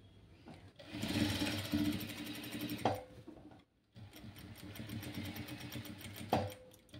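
Sewing machine top stitching around an A-line frock from the shoulder edge, running in two loud steady bursts with a brief pause between them and a sharp click near each stop.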